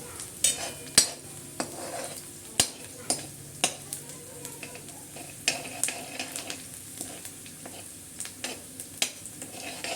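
Chopped onions sizzle in a pan for poha, with a steady frying hiss broken by frequent clicks and scrapes of a spoon stirring against the metal, close and fairly loud throughout.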